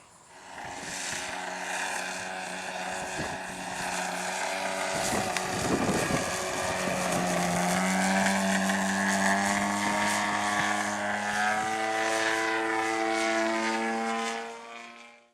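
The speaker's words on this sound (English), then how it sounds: "Michael Wargo flying his Yak 55 from HobbyKing, showing you how to do successful knife edges" A HobbyKing Yak 55 RC plane flying knife edge, its propeller engine droning steadily and loud, swelling and shifting in pitch as it passes close overhead, without a break.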